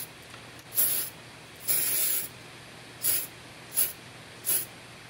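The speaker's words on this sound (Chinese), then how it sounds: "喷漆首先要喷底漆，我选择的是灰色的1500目的底漆" A spray can hisses out grey 1500-grit primer in five short bursts, two longer and three brief, close and crisp against a quiet room with no talk.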